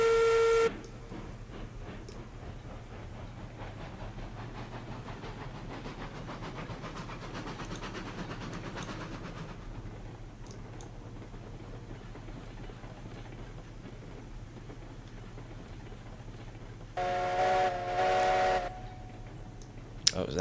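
A steam locomotive engine in the train game Railroads Online runs with a steady, hollow low rumble and chuffing hiss. It sounds short of boiler pressure, and a brief whistle-like tone rises near the end.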